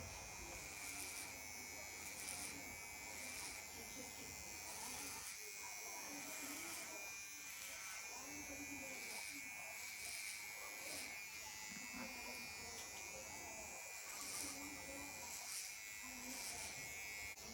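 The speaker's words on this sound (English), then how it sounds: "this trimmer has deep tooth blade, so you can barely cut bulk using this trimmer." A VGR 082 electric hair trimmer with a deep-tooth blade runs close up, a steady high buzz that changes slightly as it cuts through hair, while a person talks over it.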